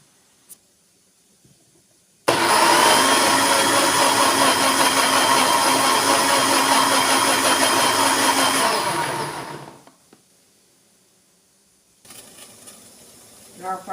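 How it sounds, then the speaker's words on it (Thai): Electric blender grinding ingredients for a Thai frog curry, a loud steady whirring roar for about seven seconds before winding down, with faint sounds before and after. "ทีนี้เราก็เตรียมปั่นเครื่องกันนะคะ"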